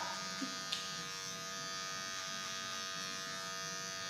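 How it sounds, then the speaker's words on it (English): Electric hair clippers run with a steady, close-up buzz while cutting a flat top, moved upward through the hair with a comb, the drone holding constant with a couple of faint clicks. "So moving the clipper up"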